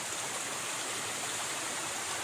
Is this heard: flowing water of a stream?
yes